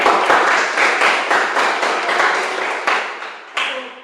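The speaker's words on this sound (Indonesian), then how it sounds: "Kita tepuk tangan dulu untuk Siska dan Angel" A small classroom group claps for two students during a practice teaching lesson: a quick run of sharp, close hand claps that repeat and gradually soften, with a few stray final claps.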